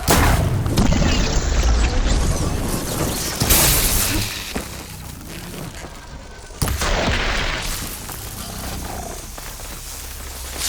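A mine launcher in the video game Horizon Forbidden West is shot off and blows up, giving loud booming blasts and shattering crashes with rumbling aftermath and a sharp second burst midway.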